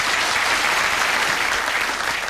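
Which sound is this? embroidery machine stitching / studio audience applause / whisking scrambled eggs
studio audience applause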